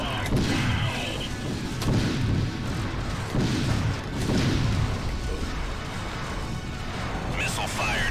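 Turret gunfire in the space combat game Wing Commander Prophecy, a run of booming, rumbling blasts in rough bursts over a steady engine drone, with radio voices talking over it.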